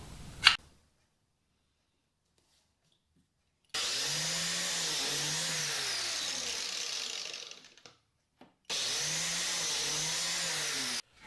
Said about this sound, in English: I've got all my biscuit holes drilled out now